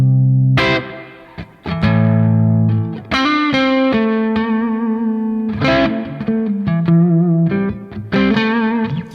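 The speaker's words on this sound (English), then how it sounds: "that's kind of the basic spring sound" Electric guitar played through a Strymon BigSky pedal set to spring reverb, with plucked notes and chords ringing out into a splashy, lingering tail between phrases.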